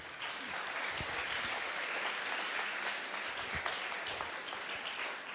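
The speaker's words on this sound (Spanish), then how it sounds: "Merecen un aplauso total." An audience at a youth forum breaks into sustained, dense applause, many hands clapping steadily at a fairly close distance for several seconds.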